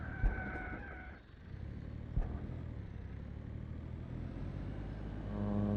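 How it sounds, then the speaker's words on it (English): A rough, labouring car engine from the farming game Pure Farming 2018 drones steadily at low pitch, with a brief thump near the start and another mid-clip, then a rising tone toward the end. "This car sounds in a bad way, doesn't it?"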